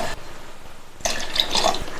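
Water pours into a mixer jar of ground mint chutney, a short soft splash and trickle starting after a quiet moment, close and alone.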